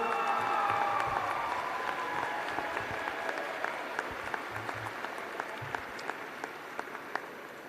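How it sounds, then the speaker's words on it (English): An audience at a high school commencement ceremony applauds for the teachers, dense clapping that starts full and slowly thins, with scattered louder claps toward the end. "how about a round of applause for them also?"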